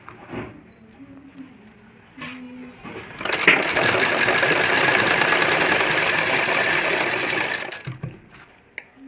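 Sewing machine stitching cord piping onto a dupatta, running in one loud steady whirring burst of several seconds, starting and stopping sharply with faint handling sounds on either side.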